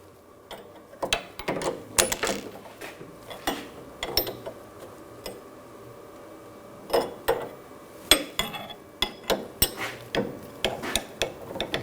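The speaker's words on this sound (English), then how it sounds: "Use a 18mm wrench." An 18mm wrench ratchets and clicks while tightening the nut on a front sway bar link of a 2000–2006 BMW X5, with sharp, close, irregular metallic ticks and clacks spread across a quiet garage background.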